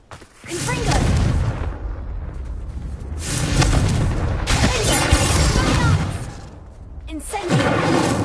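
Booming crashes of the Confringo explosion spell in Hogwarts Legacy among vases near a statue, a loud rumbling blast sustained for several seconds, then fading and flaring again, with game voice and noise mixed in.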